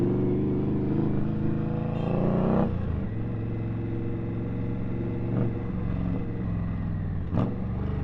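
A motorcycle rides through city streets at a steady, loud drone, its engine note holding near and continuous with a few brief clattering knocks along the way and no talk over it.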